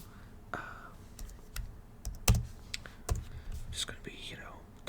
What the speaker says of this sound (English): just going to be, typing down your answers.